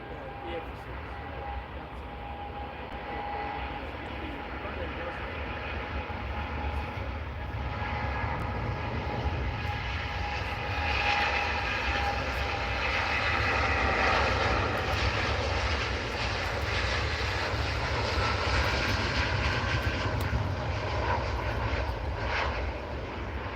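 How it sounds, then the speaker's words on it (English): A Boeing Dreamliner jet departs Manchester Airport with a broad engine roar that builds gradually, peaks and then starts to fade. A faint voice can be heard beneath it. "As the Dreamliner leaves Manchester Airport"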